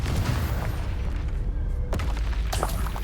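Confringo blasting spell exploding in the video game Hogwarts Legacy, a loud booming blast with heavy low rumble, then a brief lull before a second sharp burst.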